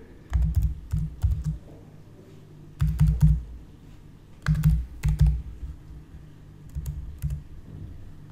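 Bank account details are typed on a computer keyboard in short bursts of quick, crisp key clicks separated by pauses, close and fairly quiet with no talking.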